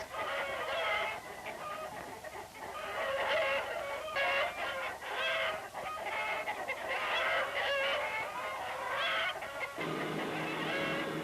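A large flock of farm chickens clucks and chatters continuously, heard close up with no talking.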